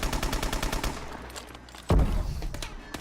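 Gunfire in a competitive video game match, a rapid run of evenly spaced shots followed by a short gap, then one heavy, booming sniper-like blast and a few more scattered shots.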